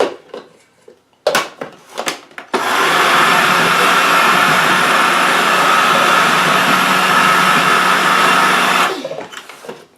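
Food processor pulsing a gluten-free falafel mixture of chickpeas moistened with olive oil, a loud steady whir lasting several seconds after a few short clattering bursts, then stopping.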